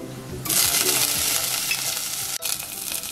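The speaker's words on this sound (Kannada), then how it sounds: "ಈ ಎಣ್ಣೆಗೆ ಸ್ವಲ್ಪ ಜೀರಿಗೆ ಮತ್ತು ಮೆಣಸು ಹಾಕೋಣ" Cumin seeds and pepper drop into hot oil and ghee for khichdi and burst into a loud, bright sizzle that holds steady, with stirring scrapes and a brief metallic clink partway through.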